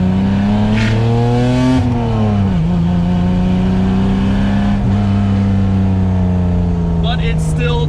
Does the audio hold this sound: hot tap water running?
no